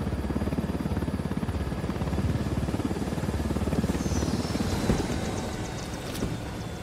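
A video game helicopter flies steadily, a loud, continuous rotor thump and engine drone close up with even rhythmic chopping and no talking.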